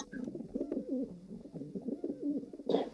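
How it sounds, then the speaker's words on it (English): Several pigeons coo in low, rolling throaty calls that overlap continuously, close by, with a short rustle at the end. "What's that noise? I don't know. Pigeons?"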